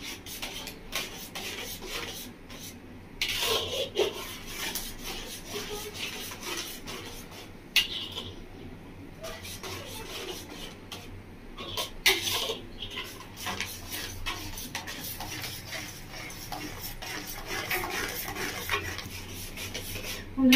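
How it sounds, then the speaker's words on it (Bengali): A spoon steadily scrapes and stirs mango kheer in a pot, with a continuous soft rasping and rubbing broken by occasional louder scrapes and clinks against the metal. "খুব ভালো করে নাড়িয়ে নিয়েছি।"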